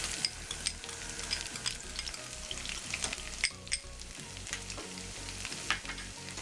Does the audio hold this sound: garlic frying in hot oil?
yes